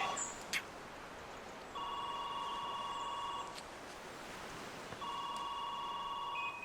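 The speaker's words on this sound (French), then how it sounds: "Laisse sonner." An indoor telephone rings in two separate electronic bursts of steady ringing, fairly faint, with a pause between them and no talking.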